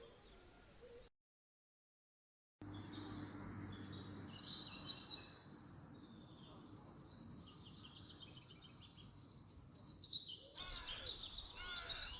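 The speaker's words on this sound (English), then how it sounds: "And the bird song is wonderful." Birdsong beside a lake at sunrise: layered chirps and whistled calls, moderately near, over a soft wind-like background, broken briefly by a gap of silence early on.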